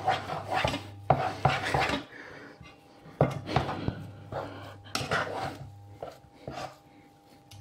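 A spatula mashes and turns thick choux pastry dough for chouquettes in a pan over medium heat, giving repeated close scraping, squelching strokes in an uneven rhythm with brief pauses and no talking.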